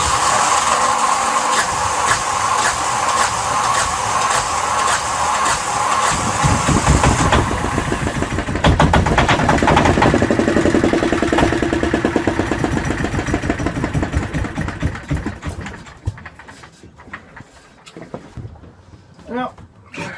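A Yanmar SB12 sailboat diesel engine, just bled after fuel line repair, chugs with a rapid knocking rhythm that grows louder, then falters and sputters unevenly before fading toward silence, with voices talking over it.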